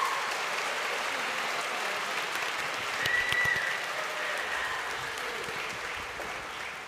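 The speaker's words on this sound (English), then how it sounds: "bring your hands together and give a warm round of applause for your MC for this evening" Warm, steady applause from graduates and guests welcoming the MC at a Melbourne Polytechnic graduation ceremony, a dense wash of many hands clapping that holds evenly throughout and swells slightly midway.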